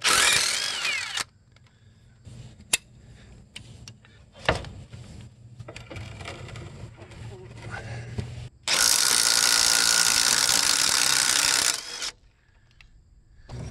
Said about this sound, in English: Now removing the idler arm and Pitman arm nuts where they connect to the relay rod.